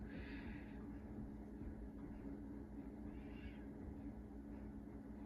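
A backyard cat gives two faint, drawn-out meows spaced a few seconds apart over a steady outdoor hum.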